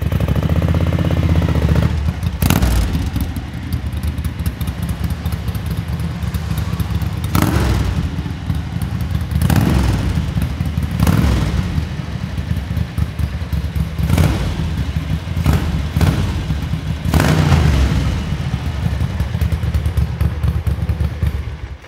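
A 1980 Ducati 900 Darmah SD motorcycle engine running close by, a loud, steady rumbling idle broken by sharp thumps and revs every few seconds, with no one talking.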